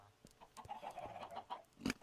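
Chickens in the Minecraft video game cluck in a quick series of short, nasal calls, several scattered bursts ending in one louder squawk, with no talking over them.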